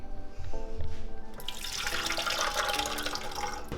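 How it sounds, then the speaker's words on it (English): A liquid dough mixture for cast iron cinnamon rolls is poured into a bread machine basket, a close, steady splashing pour that starts partway through and continues to the end. "So Otto, go ahead and pour this mixture into there."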